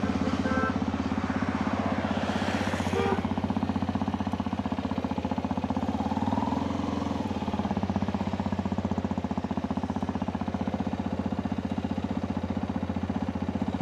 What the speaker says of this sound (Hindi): ऑफ रोड ट्रैवलिंग करना बहुत अच्छा लगता है और वो भी बाइक से